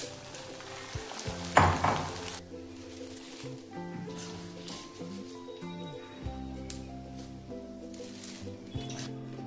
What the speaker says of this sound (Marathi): हे फुल गॅसवरच तळायचे